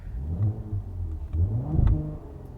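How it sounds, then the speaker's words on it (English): A 2020 Cadillac CT5-V AWD's V6 engine with active exhaust rumbles low and close, rising and falling through a couple of revs with a deep throaty tone. "you'll hear that this CT5 does make some pretty sweet V6 noises"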